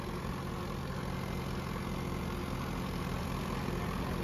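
A Mahindra 575 tractor engine runs at a tractor pulling contest, a loud, steady low drone close by that holds without a break.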